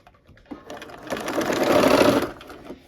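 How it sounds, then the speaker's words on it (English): A sewing machine stitches fabric for a barn quilt sampler, a close steady whirring run that ramps up, holds for about a second and then stops, with no talking. "So let's go ahead and start sewing."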